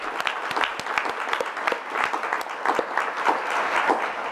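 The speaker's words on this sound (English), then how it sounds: "So give them a round of applause because they've always helped me." Audience applause at a tribal council meeting, a steady wash of many hands clapping together indoors, sustained at an even level with no talk over it.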